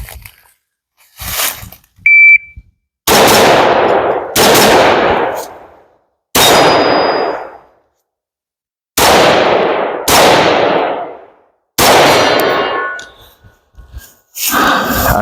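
Gunshots in a shooting scenario, hitting steel targets: about seven sharp, loud reports spaced irregularly over several seconds, each with a ringing decay, plus a few fainter clicks and a brief beep in the gaps.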